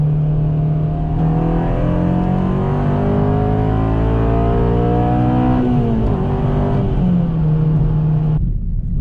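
A 2007 Honda Civic Si with 200k miles accelerates hard, engine revs climbing steadily, then a shift into second gear drops the pitch before it climbs again; loud, close, continuous engine whine with no talk.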